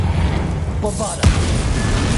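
A Bombarda explosion spell goes off in Hogwarts Legacy on PS5, a single sharp boom landing about midway through and fading over a rumbling, busy game backdrop, with a brief tonal chirp just before it.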